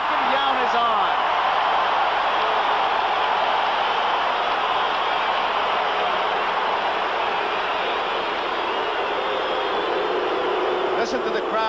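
A packed baseball stadium crowd at a 1982 World Series game between the Cardinals and Brewers keeps up a loud, steady, dense roar of cheering throughout, with no distinct pauses.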